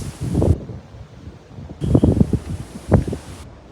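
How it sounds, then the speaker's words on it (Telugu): Strong wind gusting across an open mountain top on the island of Saint Thomas, arriving in two broadband roaring bursts with a lull of rustling between them, close and buffeting the microphone. "తెగ గాలి అయితే వస్తుంది."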